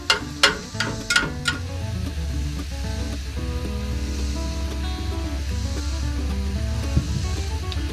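Sausage browning in a pan at an outdoor camp breakfast, a steady close sizzle running throughout, with a few sharp clanks and taps of a utensil near the start and a low hum beneath.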